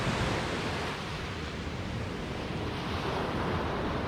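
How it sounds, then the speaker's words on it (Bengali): Ocean waves roll onto a beach in Sierra Leone in a steady, loud surf roar that holds evenly throughout, with some wind on the microphone and no voices. "Just feel the sound of ocean."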